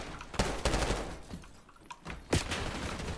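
A handful of sharp gunshots pop in Call of Duty: Black Ops 6 online play, spaced unevenly over a few seconds, moderately loud against a busy game background.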